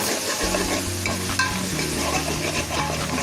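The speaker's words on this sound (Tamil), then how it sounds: "மூடி வச்சு வதக்கலாம் கொஞ்சம் நேரம் வதங்கட்டும்" Brinjal sautéing in a pan for a fish curry, with a steady close sizzle and frying hiss that runs throughout, broken by occasional scrapes and stirring clatter.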